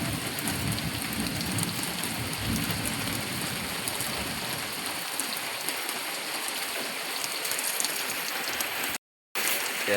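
Heavy rain pours steadily onto surfaces, a dense continuous hiss with low rumbling in the first half, nearby and loud, no voices, with a brief dropout near the end.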